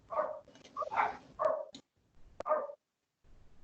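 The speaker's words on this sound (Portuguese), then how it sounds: "É o Francisco, o cachorro é dele." A dog barks in several short bursts through an open microphone on an online call, sounding faint and somewhat distant, with brief pauses between the barks.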